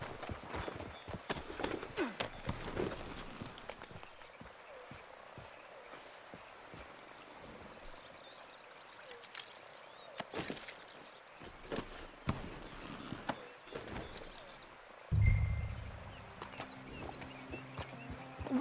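Horse hooves clip-clop at a steady riding pace in Red Dead Redemption 2, moderately near, with game music and ambient sounds around them and a short louder thump near the end.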